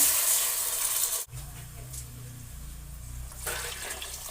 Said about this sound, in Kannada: ಅಳತೆ ನೀರು ಹಾಕಿದ್ದೀನಿ